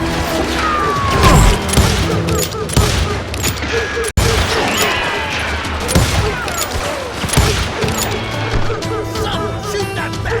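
Western shootout gunfire in the Xbox 360 game Call of Juarez, loud close shots and ricochet-like whines scattered across a busy mix of clanks and music-like tones, with a sharp cut partway through.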